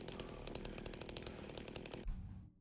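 Chainsaw in the horror game Silent Hill 2, a loud, buzzing, revving motor close up that runs steadily, then cuts off abruptly, leaving a short fading tail.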